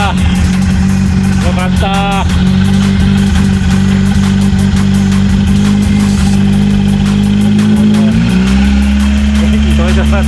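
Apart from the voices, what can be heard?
car engine idling and revving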